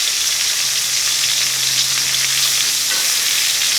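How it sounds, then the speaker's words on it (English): Pork chops searing in an oven-safe pan give off a steady, loud sizzle with dense crackling spatter that holds evenly the whole time, with no voices over it. "what we want to do is just sear them all like this"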